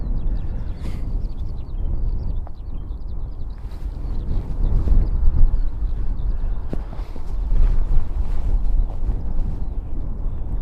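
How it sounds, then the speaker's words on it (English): Gusty wind buffets the microphone at an airport livestream, a loud continuous low rumble that swells and eases throughout with no talk. "a little bit of unexpected wind today actually"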